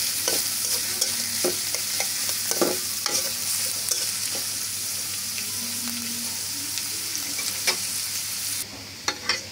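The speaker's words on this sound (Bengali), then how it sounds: "এরপরে দিয়ে দিব পেঁয়াজ আর রসুন কুচি। ভালোভাবে নেড়ে চেড়ে ভেজে নিতে হবে।" Chopped onion and garlic fry in a pan for an egg and potato curry, a steady sizzle broken by repeated scraping clicks of stirring, close and moderately loud with no talking.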